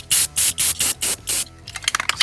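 Six short bursts of hissing from an aerosol spray paint can in an even rhythm, then a few faint sputtering puffs as the spray weakens.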